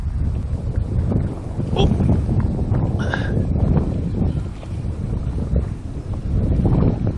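Wind buffets a microphone in gusty, rumbling bursts outdoors at Lake Stanovoe while ice fishing, with a short exclamation from a voice partway through.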